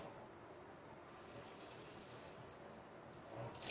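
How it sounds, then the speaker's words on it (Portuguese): Water running into a kitchen sink that tends to pool, a steady broadband wash with a tap-like gush that swells louder near the end, no voices. "Ai, a pia tá cheia d'água."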